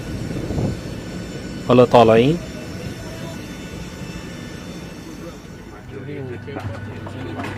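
Loud steady jet engine roar outdoors at an airport, with a brief voice speaking over it partway through and a low rumble continuing.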